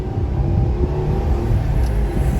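A Honda car accelerates hard in second gear from a roll of about 40 mph, giving a close, steady engine drone and rumble that holds through the short stretch with no speech.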